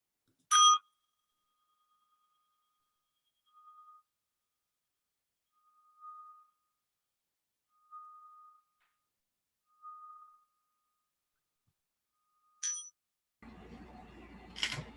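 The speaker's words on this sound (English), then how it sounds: "just listen to the sound of the bell." A single bell tone rings out several times at even intervals, each strike soft and lingering in near silence, with a brief clatter at the end.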